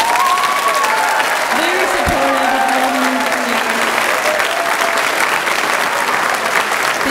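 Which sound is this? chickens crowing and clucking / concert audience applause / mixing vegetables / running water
concert audience applause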